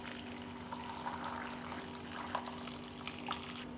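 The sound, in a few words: boiling water poured into a pot up to lid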